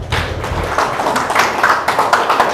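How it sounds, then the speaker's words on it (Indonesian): Church congregation clapping for God during a Sunday morning sermon service, a dense wash of many hands applauding steadily throughout at moderate loudness. "Berikan tepuk tangan untuk Tuhan kita."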